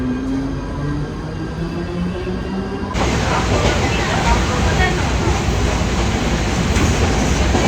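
A crowded passenger train rumbles steadily along at night with a dense clatter of wheels and carriage noise, growing louder partway through, with voices faintly underneath.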